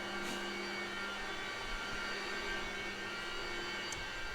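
Haas CNC mills, a VF2 Super Speed and a TM2P, run together in a machining cell, giving a steady, moderately loud whirring hum with a few faint high-pitched ticks.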